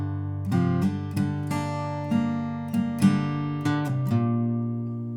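Acoustic guitar strumming Wayfaring Stranger chords with picked target notes from the tab, heard as about eight distinct, clear strums spaced at a slow, even rhythm, each ringing out alone and close.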